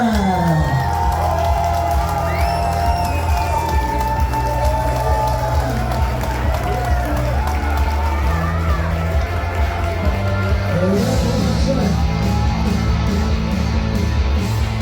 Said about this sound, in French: Mesdames, Mesdemoiselles, Messieurs, on l'applaudit également. Steven Kahuna Polita!